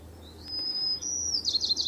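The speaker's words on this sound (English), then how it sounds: "And it will play a bird's song" Bird song played back from a bird song practice app: a thin, high whistled note that slides and holds, then a quick run of chirping trills, clear and fairly near over a low steady background hum.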